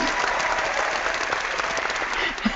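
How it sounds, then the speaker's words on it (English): A room full of people clapping together at a casual book club meeting, steady dense applause holding at an even level for the whole stretch, with a brief louder bump near the end. "clapping."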